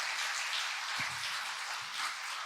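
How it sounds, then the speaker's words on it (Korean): A church congregation applauds together, a broad, even wash of many hands clapping that holds steady at moderate loudness throughout, with no voices over it. "서로에게 큰 박수로."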